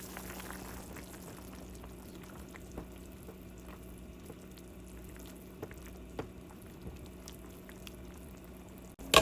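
Kebab mixture of onion, chili flakes and water boiling in a covered pot, a quiet steady bubbling simmer with occasional soft pops and a brief louder clatter right at the end.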